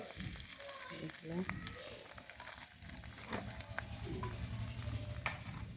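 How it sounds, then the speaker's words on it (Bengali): Bottle gourd greens frying in oil in a pan, a steady close sizzle with crackling and soft stirring clatter throughout, fairly quiet, with no talking. "লাউ শাকগুলো সমস্ত তেলের মধ্যে একটু দিয়ে দিলাম।"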